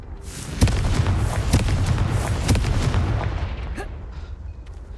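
A fiery Confringo spell bursts in Hogwarts Legacy, a loud explosive boom followed by several more heavy thumping blasts that fade into a rumbling tail.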